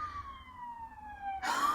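An ambulance siren wails in a slow falling tone, fairly faint and distant, then a louder burst of broadband noise cuts in near the end.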